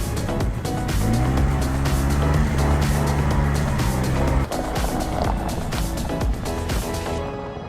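Toyota Prius, front-wheel drive, climbing a mountain track, its engine droning loudly and steadily with tires scrabbling and squealing over rough ground, close and continuous.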